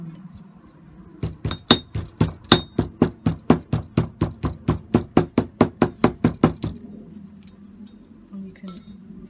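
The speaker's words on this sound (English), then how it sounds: "Just give it a little bit of a hammer" A metal piece for a small bug sculpture is struck with the rounded end of a hammer on an improvised anvil, about twenty quick, evenly spaced ringing taps, close and loud, then stopping.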